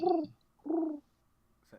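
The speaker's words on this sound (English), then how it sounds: "that's a horrible pigeon noise." Two short, soft cooing calls from a pigeon in a video game, a brief gap between them, with a faint click at the end.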